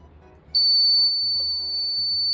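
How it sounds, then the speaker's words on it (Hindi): An Arduino water level indicator's buzzer goes off as the water rises, a loud, steady high-pitched electronic tone that starts abruptly and holds unbroken over faint background noise. "तो अब हमारी जो एलईडी है वो भी ग्लो होगी और हमारा बजर भी साथ में बजेगा"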